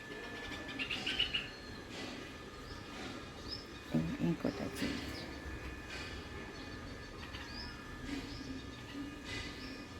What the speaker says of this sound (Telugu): తెల్లవారు ఏంటంటే మనకు పక్షుల సందడి మొదలైనట్టే